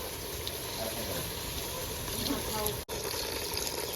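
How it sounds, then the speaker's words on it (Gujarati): Water pours into a cooking pot while a big prawn curry is being made, producing a continuous, close, splashing rush with a brief break near the end. "આપણે નાખી દેવાનું છે પાણી"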